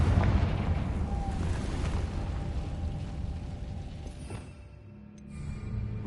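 A fiery Confringo spell blast in Hogwarts Legacy sets off a loud rumbling explosion that roars from the start, then slowly fades and swells again before the clip ends, with no talk over it.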